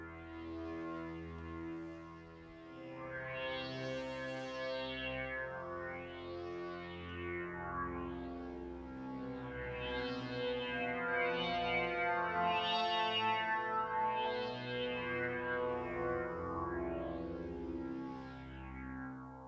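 A Bitwig sampler patch that began as a lead now swells as a lush synth pad, its sustained chords rich with chorus, echo and sweeping filter movement that rises and falls throughout.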